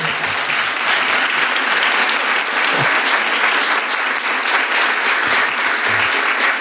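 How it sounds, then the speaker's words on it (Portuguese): A conference audience at KopyFest 2022 breaks into sustained applause after a round-table session, dense loud even clapping of many hands going on for several seconds without letup. "uma salva de palmas, pessoal"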